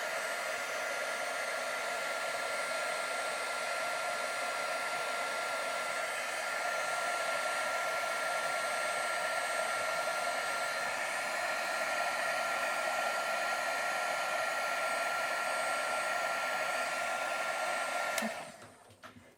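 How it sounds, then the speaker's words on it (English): A Wagner heat tool blows hot air onto alcohol ink in a steady, loud, continuous whoosh that cuts off abruptly near the end. "And I have my Wagner heat tool here."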